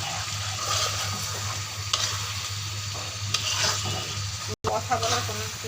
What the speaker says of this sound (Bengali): এখন আমি ঢাকনাটা উঠিয়ে তারপর হচ্ছে নাড়া দিচ্ছি